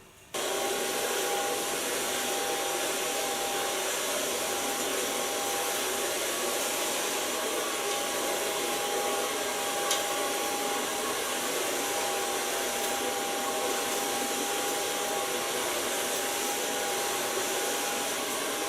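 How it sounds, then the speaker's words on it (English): A Kiona blow dryer runs without pause while drying a model's long hair with a large brush, a loud, close, even whoosh with a thin steady whine over it. "Use a Kiona blow dryer and a large brush of Ergo."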